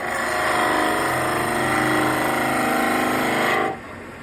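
Wood lathe turning a small bud vase, a steady whirring hum with tool scraping and a faint rattle, running loud and continuous before cutting off abruptly near the end.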